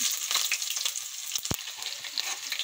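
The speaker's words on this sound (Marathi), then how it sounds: "कांदा मिरची घातली, छान शिजू देऊ यांना" Onion and green chili fry in hot oil with roasted peanuts, a bright steady sizzle close up, broken by quick scraping stirs and one sharp clink of the spoon against the pan.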